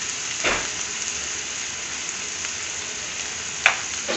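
Chopped onion and red capsicum simmering and frying in a pan in an Indian restaurant kitchen, a continuous close sizzle with a couple of brief stirring or clinking accents, no talk.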